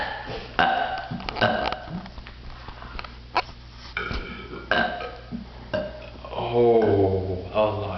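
Repeated burps in a burping contest come in quick succession, loud and close, ending in a long, drawn-out belch, with faint murmuring voices around them.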